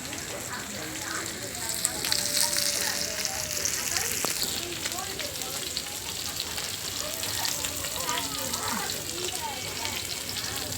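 Fish sizzling and frying in a pan outdoors, a steady crackling hiss with small pops, with someone talking over it.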